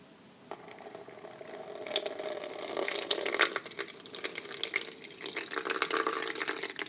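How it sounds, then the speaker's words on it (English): Water pours into an essential oil diffuser, starting with a few drips and building to a close, steady trickling splash that fluctuates as the reservoir fills, heard alone without speech. "pour the water inside"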